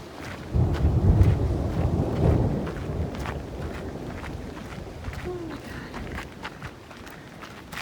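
Thunder from a passing storm rolls in during a hike, a loud deep rumble swelling early then fading into a long low grumble, with rain patter and footsteps around it.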